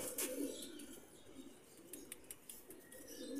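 A Teddy pigeon coos softly in a few low, faint, rounded calls close by, with small clicks and rustles in between and no talking.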